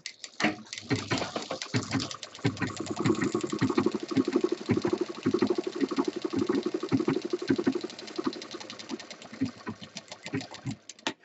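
Sewing machine stitching a straight side seam on an office handbag, a close, continuous rattling whir with a quick pulsing rhythm that runs for roughly ten seconds before stopping.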